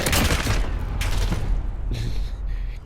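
A PKM machine gun in Modern Warfare fires sustained rapid automatic bursts, loud and close, with dense overlapping shots and a deep booming tail.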